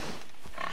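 Pigs in the video game Far Cry 3 give a short burst of grunting snorts, close and steady over continuous game ambience.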